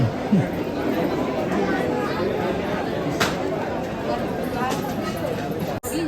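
Dense crowd chatter fills a Ganpati temple darshan queue on Sankashti Chaturthi, a steady close babble of many voices with no single speaker standing out.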